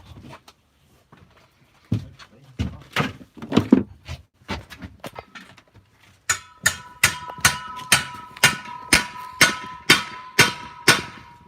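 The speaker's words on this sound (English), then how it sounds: "Just smashing it into the handle." A metal foraging hook head is hammered onto its handle: a rapid run of close, sharp, ringing metallic strikes, about a dozen even blows, after lighter irregular knocks, with no talk.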